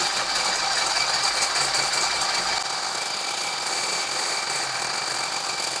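An electric mixer whips egg whites to hard peaks for chocolate mousse, giving a steady close motor whine with a dense buzzing hum that eases slightly after the first few seconds.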